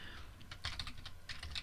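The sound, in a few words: typing on a computer keyboard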